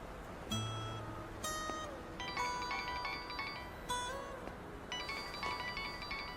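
A telephone ringtone plays as a bright melodic electronic tune, repeating in short phrases and loud and close, with no other sound around it.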